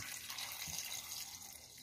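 Water runs steadily into a cooking pot holding sea leeches before boiling, a continuous close splashing pour with no talk.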